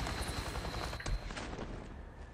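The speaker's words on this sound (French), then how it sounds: "Oh, attends, j'ai entendu un hélico là." Helicopter in the post-apocalyptic video game Days Gone, a dense rotor rumble with bursts of gunfire-like chatter, loud and close, fading slightly toward the end with no talk over it.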